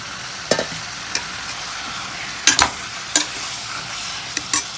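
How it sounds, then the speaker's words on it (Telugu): Washed chicken stirred into masala frying in hot oil for a Telugu chicken curry, giving a steady loud sizzle with several clattering stirs of a spoon against the pan. "మసాలా కొంచెం వేగిన తర్వాత ఆయిల్ శుభ్రంగా వాష్ చేసి పెట్టుకున్న చికెన్ వేసేస్తున్నాం"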